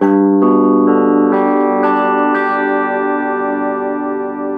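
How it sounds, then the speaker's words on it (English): A Glarry GT506 electric guitar on a clean amp setting plays a chord, strummed several times in quick succession and then left ringing out, loud and close with no voice. "so here's a clean sound. I'm just going to make a chord and you guys can hear the clean sound."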